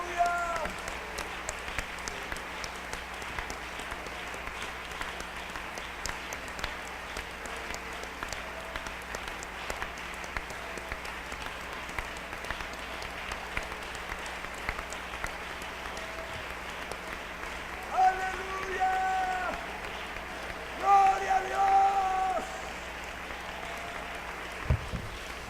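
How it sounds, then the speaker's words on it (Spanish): A church congregation applauds in a long, steady, fairly faint wash of clapping, with occasional voices rising over it. "denle un aplauso al Señor"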